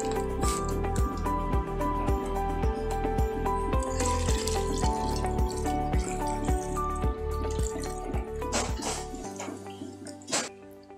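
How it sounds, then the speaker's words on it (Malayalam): Milk is poured into a grape and banana juice, giving off rapid, even glugging pulses that run for several seconds before the flow stops, close and clear. "നമുക്ക് ഇതിലേക്ക് പാൽ ഒഴിച്ച് കൊടുക്കാം."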